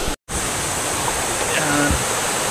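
A waterfall at Pyamalaguan near Puerto Princesa, Palawan, pours down in a loud, constant rushing roar, broken only by a brief moment of silence near the start.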